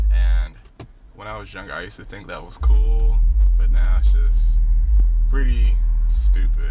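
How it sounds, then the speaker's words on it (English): Deep bass thumping from subwoofers in a nearby car, a loud low rumble that drops away briefly then returns and holds steady under someone talking. "It is somebody behind me with some subwoofers in his car."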